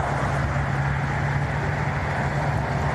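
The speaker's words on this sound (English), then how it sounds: "Sorry about the car noise." Constant roar of car traffic from a nearby freeway, a broad steady wash of engine and tire noise with a low hum and no clear breaks.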